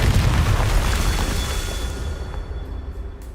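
Confringo fire spell blasting rocks in the game Hogwarts Legacy, a loud booming explosion that opens with a heavy low rumble and fades into crackling debris.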